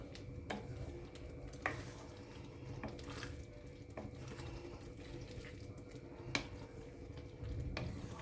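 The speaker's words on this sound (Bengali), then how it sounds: "এবার ধনেপাতা কুচিটা খুব ভালোভাবে মিশিয়ে নিচ্ছি।" Pav bhaji mixed with chopped coriander in a pan over a low flame, with soft wet stirring and scraping plus occasional sharp spoon taps against the pan, fairly close and quiet.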